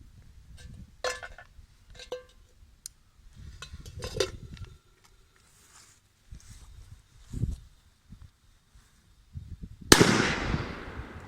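Scattered clinks and shuffling give way to a sharp P1000 firecracker blast under a metal pot, followed by a clattering, ringing tail.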